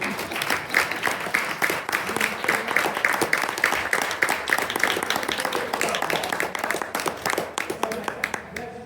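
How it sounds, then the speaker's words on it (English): At a theater rehearsal, an audience breaks into brisk, sustained clapping, many distinct hand claps in a fast, busy rhythm close by, with voices talking faintly beneath. "You may applause now."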